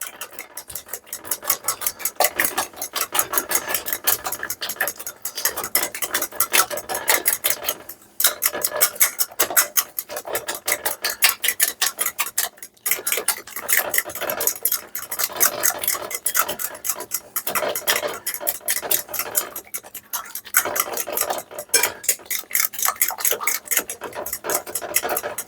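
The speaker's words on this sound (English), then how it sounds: "we're going to whisk that up" A whisk beats egg and milk for a crustless shrimp quiche in a bowl. The clicking and scraping is rapid and continuous, close by and fairly even, with no talking.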